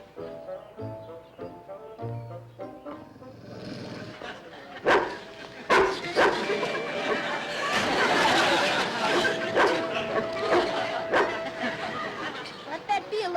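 A big dog named Tiny barking and whimpering, yelps and whines scattered among people talking over it.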